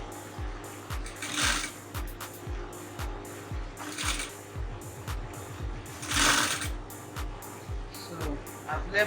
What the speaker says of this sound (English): You can see how I'm taking it one at a time, and then I'm sewing it.